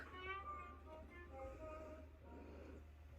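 A pet cat meows several times at moderate volume in a home, with soft music and a low steady hum underneath.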